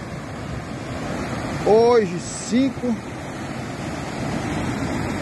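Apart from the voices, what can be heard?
rushing flood water of a river after heavy rain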